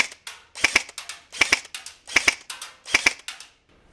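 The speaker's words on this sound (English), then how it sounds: "So the first thing I want to do is check the trigger response and full auto for you." A 2024 Specna Arms FX02 airsoft gun with HALL ETU trigger unit fires in short rhythmic bursts, each a quick pair of sharp mechanical snaps repeated about four times, loud and close with no talking.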